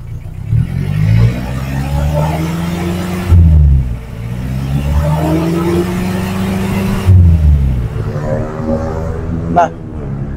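A 2007 Suzuki Carry Futura pickup engine revs up and settles in repeated steady pulls, a close mid-pitched drone that rises, holds and drops back twice, with a sharp rising whine near the end.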